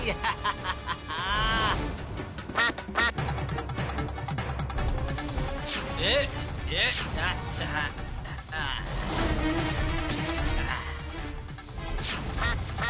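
A duck quacks amid a busy, chaotic scene with crashes, honks and excited voices talking over it.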